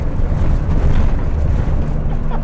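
Cabin noise from a stripped-out Suzuki Alto Works kei car, a loud, dense, boomy low rumble of the engine and drivetrain filling the whole moment without letup.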